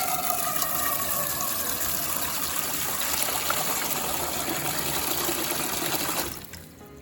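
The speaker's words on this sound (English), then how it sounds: "put it in your sink and fill it with water" Water gushes from a sink tap into a pot, a loud, steady rush lasting several seconds before it cuts off abruptly, leaving a quiet room.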